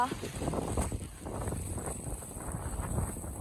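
Steady wind buffeting the microphone outdoors, a continuous rough rumble with no other distinct sounds.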